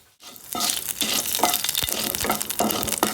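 Bay leaves and nigella seeds frying in mustard oil in a wok, giving a loud, close crackle and sizzle broken by several sharp spatters and stirring clinks, with no voices.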